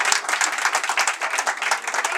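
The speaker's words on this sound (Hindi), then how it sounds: "आप सब जोर से तालियां बजाना खड़े होके" Audience at a Bhartiya Samaj Auckland performers and volunteers appreciation event clapping loudly and steadily, close and dense, with no break.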